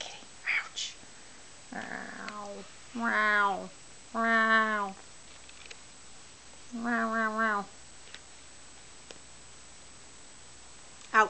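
A cat meows several times at close range, with drawn-out, wavering cries spread over a quiet stretch and pauses between them.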